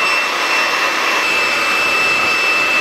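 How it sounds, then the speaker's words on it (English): A hair dryer blows over freshly braided hair with a loud, continuous whooshing airflow and a steady high whine, close and uninterrupted. "I'm just going to run the hairdryer over it just to dry off that kind of wet sticky texture."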